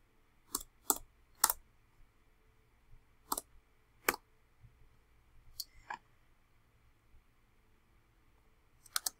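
Keys on a computer keyboard are typed in sparse, separate clicks, about a dozen crisp taps spaced unevenly, close and fairly loud over a quiet background.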